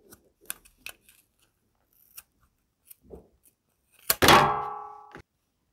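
Scissors snip through yarn while a crochet Christmas tree ornament is finished, giving a few quiet clicks and taps and then one sharp close cut with a brief ringing tail.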